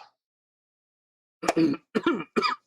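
Three short, sharp coughs close by after a brief moment of silence, spaced about half a second apart.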